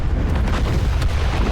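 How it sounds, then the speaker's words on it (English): A big video-game explosion from It Takes Two, a loud, dense roar with heavy low rumble that fills the whole moment without letup, alone with no voices. "Beautiful explosion"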